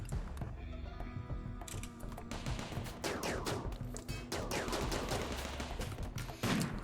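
Combat gunfire in the video game Rimworld, with dense overlapping rapid shots in bursts that continue throughout, loud and busy, with no voices.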